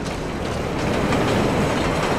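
A train in the video game Splinter Cell Blacklist, set in a transit rail yard, rolls past with a loud, continuous rumble and rattling wheel clatter that swells slightly as it goes by.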